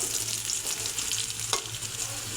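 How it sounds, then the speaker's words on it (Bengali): Cut potatoes frying in a pan, a close, steady hiss of sizzling oil with a faint scrape partway through, no talking. "এই যে দেখুন বন্ধুরা, আলুটা ভাজা হয়ে গেছে।"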